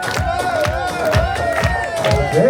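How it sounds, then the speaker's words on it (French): Crowd at a campsite parade with a Breton flag cheering and shouting loudly, with excited voices and some clapping close by throughout the short burst. "On peut l'applaudir s'il vous plaît"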